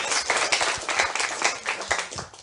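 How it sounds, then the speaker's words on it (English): Audience at a debate on whether Jesus was only a myth, featuring Richard Carrier, claps for both debating sides; the applause swells and pulses in uneven bursts for a couple of seconds. "A round of applause for both sides."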